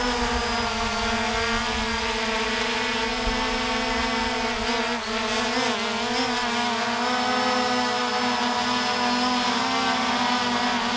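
Steady high-pitched whine of a Ruko U11 Pro drone's spinning propellers as it rotates in flight, holding a constant buzzing tone with a brief pitch wobble partway through the turn.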